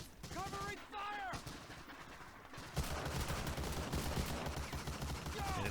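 Covering gunfire during the Omaha Beach assault in Medal of Honor: Allied Assault, a dense, continuous rattle of battlefield shots and booms that grows louder partway through, with a brief voice cry early on.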